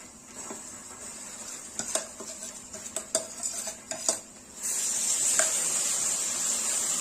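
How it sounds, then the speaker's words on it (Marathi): Black masala paste for Solapur-style bazaar amti stir-fried in oil, with a spatula scraping and clinking against the pan, then a steady loud sizzle taking over near the end. "आणि छान याला तेल सुटेपर्यंत आपल्याला हा मसाला परतून घ्यायचा."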